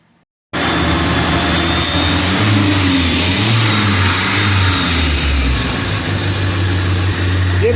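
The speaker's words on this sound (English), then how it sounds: "Give it another rev." A 1986 Shelby Charger engine starts abruptly and revs, running loud and close with a few rises in pitch over its steady rumble and no talk.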